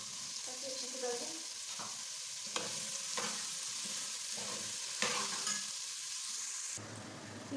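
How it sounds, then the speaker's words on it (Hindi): Carrots and peas fry in a pan with a steady broadband sizzle, broken by several scraping stirs and clacks of a utensil against the pan, continuous and close, with no talking. "3 से 4 मिनट हमने इसको फ्राई कर लिया है क्योंकि गाजर और मटर थोड़ा सा टाइम लेता है।"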